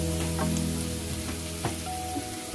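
Cooked raw jackfruit, Coorg style, is stirred into a sizzling tempering in a pan, making a steady, close sizzle with soft stirring scrapes throughout and no voices.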